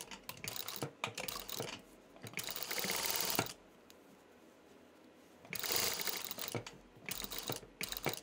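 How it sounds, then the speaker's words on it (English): Sewing machine stitching a fabric mask seam, heard as several short bursts of close mechanical clatter with quieter gaps between them, the loudest runs near the start and again past the middle. "Now align the edges and sew at 1/4 inch seam."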